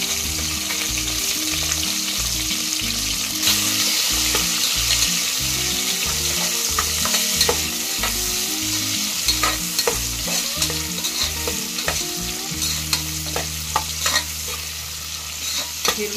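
Onions and green chillies fry in a pan with a steady, close sizzle, broken by repeated rhythmic scraping as a spatula stirs them.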